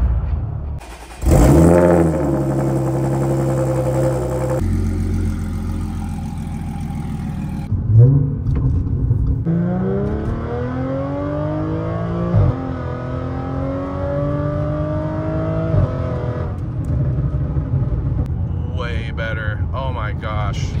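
A supercharged, modified Audi S4 engine revs up repeatedly, pitch rising and falling through several strong pulls, loud and close, with brief pauses between bursts.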